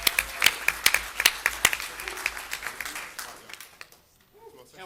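A round of applause for award winners at a city council meeting, sharp individual claps from a modest crowd that thin out and fade to near silence by the end.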